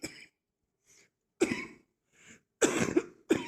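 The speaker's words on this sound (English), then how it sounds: "Sorry for the coughing, I'm still a bit sick." Someone who is sick coughs in a quiet room, a few separate dry coughs and throat clears spread out, the last ones louder and closer together, with no talking.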